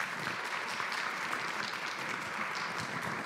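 Audience applause welcoming a speaker at a talk on biodiversity conservation, steady sustained clapping from a seated crowd throughout, moderately distant and even, with no voices.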